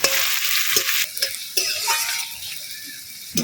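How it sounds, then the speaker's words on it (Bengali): Chopped onions sizzle loudly in hot oil in a wok with bay leaves and whole garam masala, broken up by repeated scraping stirs of a spatula against the pan. "এবার দিয়ে দেবো পেঁয়াজ কুচি। পেঁয়াজটা একটু লাল লাল করে ভেজে নেব।"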